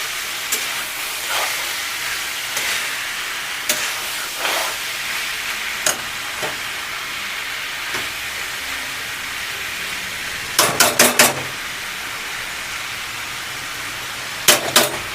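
Sweet pumpkin fry being stirred in a pan with minimal oil, a soft continuous sizzle broken by sharp spatula scrapes and clicks, with a tight cluster of clatters near the end.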